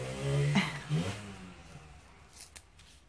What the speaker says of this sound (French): La moto de Théo.